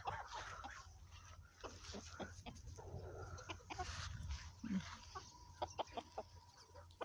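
Chickens cluck and squawk close by in a busy outdoor yard, with scattered bird calls and a brief murmur from a person.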